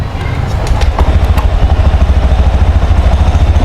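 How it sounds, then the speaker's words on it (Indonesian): A Honda Scoopy scooter engine just started and idling with an odd noise, giving a loud, steady low throb with a fast rhythmic pulse and a faint rattle on top, with no voices. "kalau motor baru gua nyalain"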